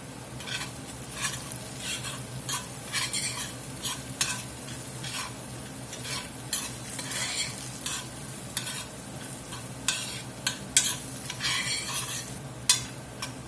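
Beef and onion seasoning base being stirred through cheesesteak meat in a sizzling pan, with repeated scraping strokes and clinks of a utensil over a constant frying crackle, no voices.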